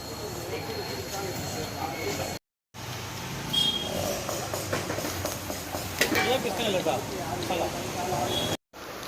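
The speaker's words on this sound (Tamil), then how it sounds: "மசாலாவில் ஊற வச்ச சிக்கனை வந்து இந்த எண்ணெயில் போட்டு பொரிக்க போகிறாங்க." A constant crackling sizzle of masala-marinated chicken frying in hot oil for chicken 65 fills the background, with people talking over it.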